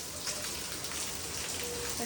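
Rain patters steadily, close by, a soft continuous hiss of drops on a surface with no talking.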